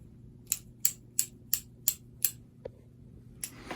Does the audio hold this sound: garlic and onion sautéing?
no